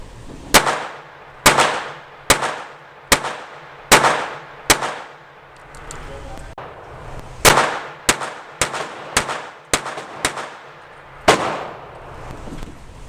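Jennings J-22 pistol firing a magazine of Blazer ammunition: a dozen or so sharp, loud gunshots spaced irregularly about half a second to a second apart, each with a short ringing decay, no talking.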